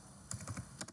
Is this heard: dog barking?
no